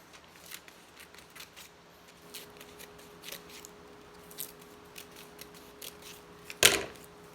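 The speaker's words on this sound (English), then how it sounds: "So I'm going to cut around where I drew the stripes. I'm going to cut in between the lines" Scissors snip through paper between drawn stripes in a quiet room, making a series of small, soft, close cuts with a sharper snip near the end.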